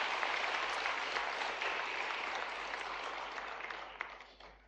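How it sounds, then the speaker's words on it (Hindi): An audience at a ceremony honoring selected UPSC candidates in Bhopal breaks into loud, sustained applause, a steady roar of clapping that tapers slightly toward the end. "जोरदार तालियां"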